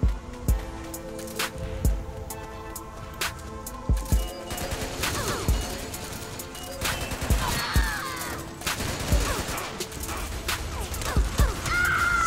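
Shooter-game gunfire crackles in scattered bursts and single sharp shots, some close and loud, others mixed with clanks and other game sounds, for about twelve seconds.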